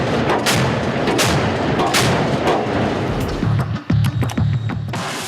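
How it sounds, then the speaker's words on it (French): A Russian Navy warship's deck cannon fires in a rapid series of heavy booming shots, loud and close, with a short break before further blasts; no one speaks. "on voit le canon en pleine action"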